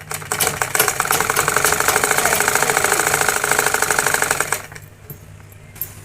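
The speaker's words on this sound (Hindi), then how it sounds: "अब हम नीचे वाले भाग को सिलाई करेंगे।" A sewing machine stitches the lower part of a beaded blouse in a steady, rapid mechanical chatter for about four and a half seconds, close and loud, then stops, leaving quiet room tone.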